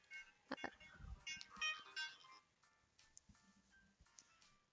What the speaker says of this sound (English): Sorry, my phone was going off.